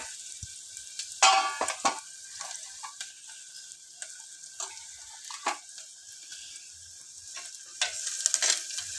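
Onion frying in a pan with spices and tomatoes, soft sizzling under repeated scrapes and clatters of a spoon stirring, close and moderately loud without talk.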